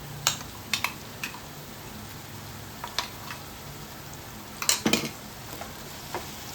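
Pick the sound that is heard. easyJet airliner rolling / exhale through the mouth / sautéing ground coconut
sautéing ground coconut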